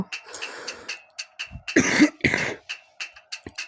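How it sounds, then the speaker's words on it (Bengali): A person coughs repeatedly in close, harsh bursts, building to two heavy fits midway, then trailing off into lighter coughs. "এত পরিমাণে কাশি হয়েছে"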